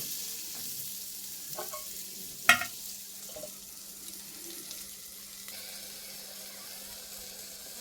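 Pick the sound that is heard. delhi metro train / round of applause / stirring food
stirring food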